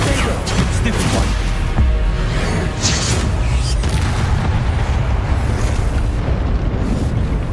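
A Confringo fire spell bursts in Hogwarts Legacy, a loud, sustained roar of explosive blasts and crackling debris that fills the whole stretch without a pause.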